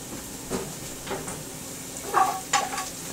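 Onions fry in a pan of oil with a steady sizzle, a few louder crackling bursts and spatters rising over the hiss, close by with no talking.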